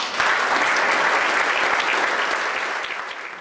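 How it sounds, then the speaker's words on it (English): A keynote audience breaks into loud, dense applause that holds steady for a few seconds before starting to fade, with no voices over it. "So give yourselves a round of applause for that."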